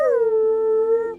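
A pet dog lets out a single sustained howl, close and fairly loud, holding a steady tone for about a second before cutting off.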